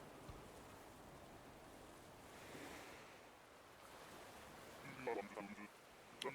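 Ocean surf rolling onto a beach with wind in Animal Crossing: New Horizons, a soft steady wash of waves throughout, joined near the end by brief higher chimes and voices.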